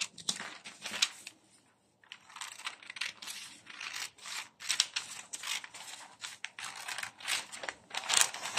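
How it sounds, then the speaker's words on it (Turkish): Repeated crisp snips of paper scissors cutting a bodice sewing pattern, close up, in quick irregular bursts with brief pauses and rustling between cuts. "korsajımı kağıt makasıyla kesiyorum"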